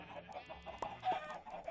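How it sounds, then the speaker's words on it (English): Minecraft chicken with the DartCraft mod clucking after being sheared with shears, a series of short, close game clucks in a quick uneven rhythm, with no talk. "I just sheared a frickin' chicken"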